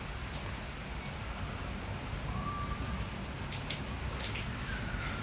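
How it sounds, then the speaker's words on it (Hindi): Rain falls steadily outside, a soft, even hiss with scattered faint patters and no speech over it. "बारिश आ रही है जिसकी वजह से थोड़ा अंधेरा हो रहा है"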